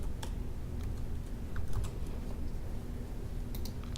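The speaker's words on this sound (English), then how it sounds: "And this last field is just to make sure that you're a real person and not a robot. So I'll just type this in." Steady typing on a computer keyboard, close and fairly quiet, with light key clicks running continuously over a low background hum, no voices.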